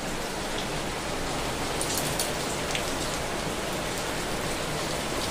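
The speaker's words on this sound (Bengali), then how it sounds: "আর বৃষ্টি শুরু হয়ে যাবে।" Steady rain falls outdoors, a dense, even hiss with scattered close drop patters that holds unchanged throughout, with no voices.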